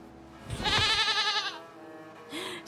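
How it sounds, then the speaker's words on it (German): A baby goat in the video game Reka gives a single drawn-out, wavering bleat, close and clear, followed by a faint softer cry against quiet game ambience. "Ich habe eine Babyziege auf dem Arm."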